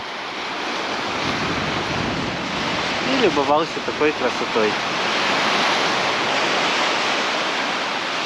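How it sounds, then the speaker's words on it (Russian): Continuous roar of Black Sea waves washing onto a beach at Ordzhonikidze, Crimea, with wind noise and someone speaking briefly over the surf. "Я просто сидел и слушал шум моря."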